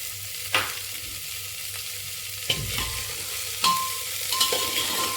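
Chana dal and black-eyed peas frying in a pan for lobia sabzi: a steady sizzle runs throughout, with a few sharp stirring scrapes and knocks of a spoon against the pan, close and fairly loud.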